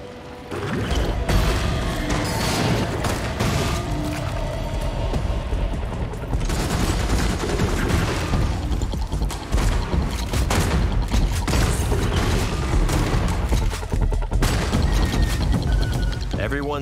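Gunfire in the Redfall game trailer comes in dense, continuous volleys of loud shots and booming impacts mixed with crashes, sustained for the whole stretch with a voice heard amid the action.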